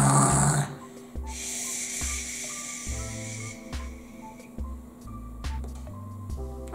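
Person mimicking snoring with breathy, rhythmic rasping inhales and exhales, a short series of close, moderately loud imitated snores with brief music underneath.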